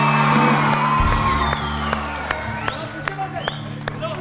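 A game show studio audience applauds and cheers in a dense, continuous wash of claps and whoops, loud and sustained, with scattered sharper claps standing out as it gradually thins.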